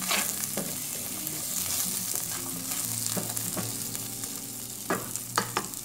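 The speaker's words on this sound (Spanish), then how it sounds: "Vamos a freír la cebolla en la mantequilla caliente." Chopped onion fries in hot butter, giving a continuous close sizzle with occasional spoon scrapes and stirring knocks toward the end.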